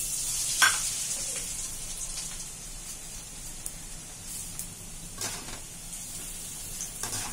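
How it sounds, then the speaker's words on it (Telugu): Kara boondi mixture frying in hot oil in a pan, a steady broadband sizzle and bubbling that holds throughout, close and fairly loud, with a few faint clinks and stirs and no talking. "ఇలాగా వేయించుకోవాలి."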